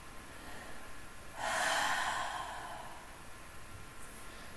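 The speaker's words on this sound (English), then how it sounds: "3 full breaths here" A single deep breath drawn in and slowly released during a yoga child's pose, soft and close, a breathy rush swelling then fading in a quiet room.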